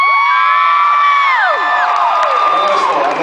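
A convention-panel audience at an X-Files session at WonderCon roars with cheers, whoops and shrill whistles, a loud, dense crowd sound that holds steady throughout.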